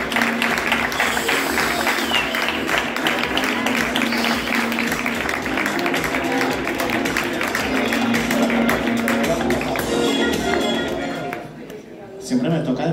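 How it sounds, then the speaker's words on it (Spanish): Audience applause at an awards ceremony, a long continuous burst of many hands clapping with voices and cheers mixed in, holding strong before dropping away near the end. "¡Un aplauso!"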